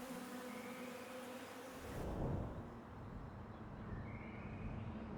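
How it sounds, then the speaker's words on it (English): Honeybees in flight, searching for food, give a steady insect buzz with faint tonal hums, swelling briefly near the middle before settling back to a continuous drone. "Honeybees fly long distances in their search for food."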